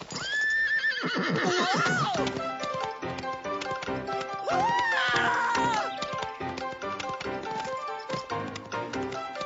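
A horse whinnies loudly twice, shrill rising and falling calls, alongside clattering hoofbeats and busy background sounds.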